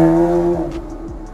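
A Porsche Carrera S with its mufflers removed and cross pipes fitted gives a deep, droning exhaust tone that fades as the engine settles, followed by a few faint clicks.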